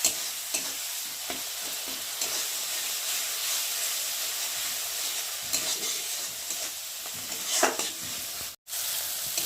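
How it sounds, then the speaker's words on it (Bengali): Spice paste with turmeric sautés in hot oil in a pan for rohu fish kalia, making a close, steady sizzle and hiss with occasional stirring scrapes. "দিয়ে মশলাটা ভালোভাবে কষিয়ে নেবো। যতক্ষণ একটা মশলা কাঁচা গন্ধ যাবে ততক্ষণ কষিয়ে নেব।"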